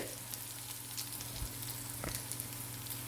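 Potato kebabs fry in hot oil with a continuous, even sizzle and soft crackle, a few faint pops rising above the steady hiss.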